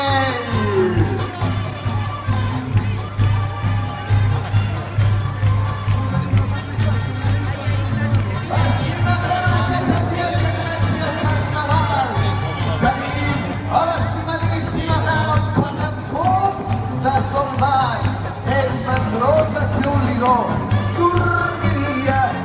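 A lively carnival crowd at the Barcelona opening speech cheers, whoops and applauds, a continuous dense roar of voices and clapping with some shouting children, under a steady low hum and amplified talk.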